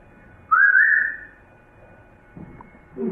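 Single clear human whistle, a rising then level tone lasting about a second, heard alone and fairly close in a quiet historic house, followed by faint soft noises.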